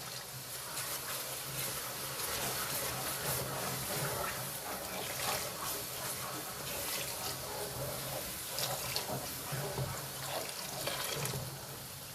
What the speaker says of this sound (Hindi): आराम आराम से डालिए पानी।